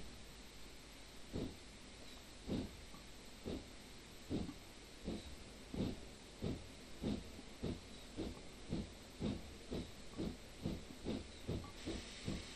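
Steam locomotive in Train Simulator 2021 on the Ribblehead to Settle line, pulling away with cylinder cocks open: a steady hiss of steam under a run of regular chuffs that grow closer together as it gains speed, with no talking.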